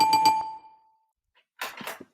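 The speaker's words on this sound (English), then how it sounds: "Yes, give him the bell." A single bright bell ding rings out and fades over about a second, followed after a pause by a short, noisy burst.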